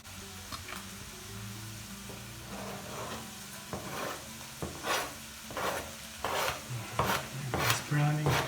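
Lasagne mix browning in a pot, with fresh basil in it, gives a soft sizzle under repeated scraping stir strokes that grow louder and busier toward the end, close and fairly quiet.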